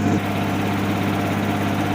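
A small engine, freshly fitted with a new carburetor, runs at a steady idle, loud and close with a constant low rumble and even mechanical chug throughout.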